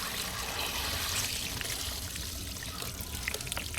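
Water trickles steadily from a faulty gate valve on a Dynasty spa, a continuous soft dribbling wash that stays fairly quiet and even throughout.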